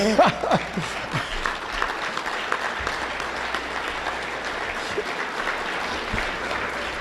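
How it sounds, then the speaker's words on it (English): An audience at a city council candidate forum applauds a speaker. Dense, steady clapping fills the room at moderate level throughout, with a few faint voices audible early on. "I had the clapping and I'll take it."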